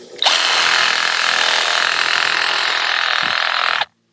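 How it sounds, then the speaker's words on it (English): A Milwaukee M12 Hackzall reciprocating saw fitted with a good blade cuts through a larger piece of wood, a steady loud buzzing rasp running for about three and a half seconds before stopping abruptly. "Let's get our Sawzall in here on this bigger piece."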